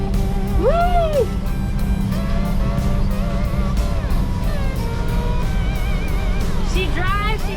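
A Jeep CJ7 engine runs steadily at close range while the vehicle drives, a constant low drone throughout with a voice and whistling tones over it.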